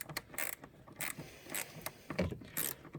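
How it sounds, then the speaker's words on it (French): A small ratchet wrench works on a Renault Scenic 3 during an oil change. Quiet, uneven bursts of mechanical clicking and ratcheting come close by, with short pauses between turns. "vous pouvez aussi prendre un petit cliquet comme j'ai fait moi"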